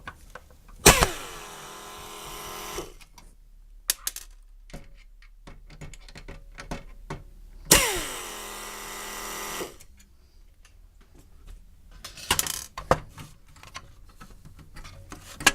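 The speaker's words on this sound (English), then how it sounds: "Right now I'm removing all the screws." Screws being removed from a computer monitor during a teardown: scattered ticks, clicks and small metallic rattles, with two louder bursts of handling noise, all fairly close and quiet with pauses in between.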